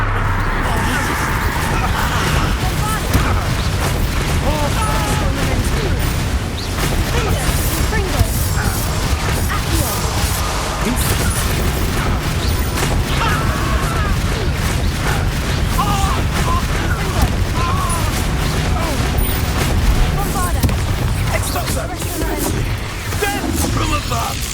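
Repeated Expulso explosion spells from the video game Hogwarts Legacy burst and crash through dense, continuous battle noise, with heavy low rumble, clattering impacts and game effects layered throughout.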